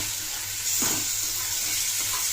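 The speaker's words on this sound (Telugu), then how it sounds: "బాగా వేగాలి ఇది ఇది వేగి అంతా ఆయిల్ బయటకు వస్తుంది" Ginger garlic paste and tomatoes frying in oil in a pan, a steady loud hissing sizzle throughout with a brief stirring scrape, close and alone.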